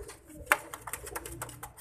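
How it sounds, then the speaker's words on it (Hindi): A pigeon coos nearby in a short, soft throaty burst with a few quick pulses, alongside faint background noise. "इसको बोलते हैं कबूतर का बच्चा"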